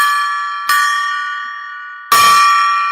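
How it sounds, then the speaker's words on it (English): A golden gong is struck twice, each hit ringing out with a bright, sustained metallic shimmer that slowly decays, the second strike about a second and a half after the first, loud and close with no talking. "Let's ring the gong."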